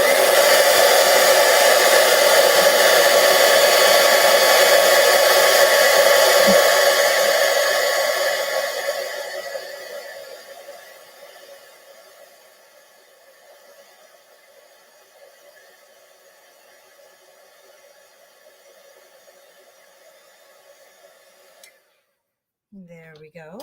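A craft heat tool blowing while heat embossing a piece, a loud steady whooshing roar that fades out partway through and leaves near silence.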